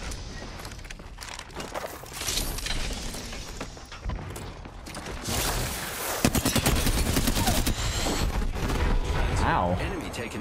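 Video game gunfire, dense bursts of automatic shots and sharp cracks that come and go, with heavy clattering volleys toward the end under a player's occasional speech.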